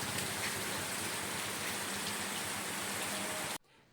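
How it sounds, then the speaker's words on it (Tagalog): Steady, continuous rain falls on surfaces near a rural game-fowl farm, a dense even hiss that persists without pause before cutting off abruptly at the end. "Dire-diretso pa rin ang ulan at walang tigil."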